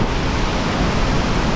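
Waterfall at a secluded trout stream, a loud close roar of falling water throwing off mist, a constant broadband rush with no talking.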